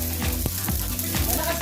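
Onion sizzling and frying in a hot pan, a dense crackling hiss with stirring scrapes breaking through at intervals, close and loud.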